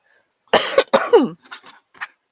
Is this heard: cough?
yes